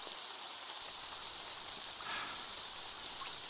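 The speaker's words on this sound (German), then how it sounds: "bei strömendem Regen" Pouring rain used as a radio-drama sound effect, a steady dense hiss of falling drops that stays even and fairly quiet throughout, with no voices.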